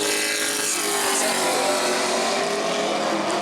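A race car, red and black number 16, roars steadily and loudly out of a corner during sportsman qualifying at New Smyrna, a dense engine sound that fills the whole stretch with no talk.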